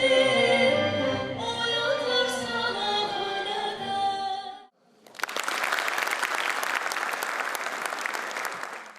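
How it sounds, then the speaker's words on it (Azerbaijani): At an arts evening in Nakhchivan, a live musical performance fades out and is followed by loud, sustained audience applause that fills the hall. "Səslənən ifalar alqışlarla qarşılanıb"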